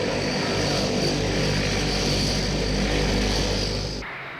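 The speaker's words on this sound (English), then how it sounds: "This Franco-German plane, the Transall troop carrier, has Rolls-Royce engines built under license on the continent." A Transall troop-carrier plane with Rolls-Royce engines roars as one loud, continuous turboprop drone with a low rumble. It holds steady for about four seconds and then cuts off abruptly.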